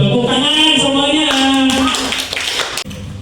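A classroom group breaks into applause for a team's score: a burst of clapping from many hands follows a voice and fades quickly, with other voices mixed in.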